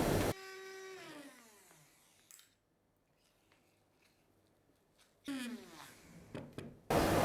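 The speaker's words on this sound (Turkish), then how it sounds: "El blender ile devam ediyorum." Hand blender pureeing chickpea dough, a loud whirring motor burst at the start, then a quieter stretch before the motor revs up again and rises to a loud finish.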